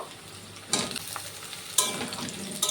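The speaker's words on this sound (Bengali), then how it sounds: "আলু আর পেঁয়াজটা সুন্দর করে ভেজে নেব" Potatoes and onions frying in a pan for a green-chilli coriander chicken curry: a soft background sizzle broken by three bursts of stirring and scraping, close and fairly quiet, no talk.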